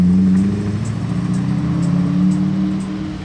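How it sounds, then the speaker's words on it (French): A loud monster truck belonging to Lando Norris rumbles past outside the Hôtel Hermitage in Monaco, its deep engine drone steady and close throughout with a faint rustling on top. "retour de Lando Norris avec son monster truck de l'enfer"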